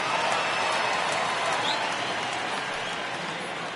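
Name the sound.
restless home stadium crowd, from video game MLB The Show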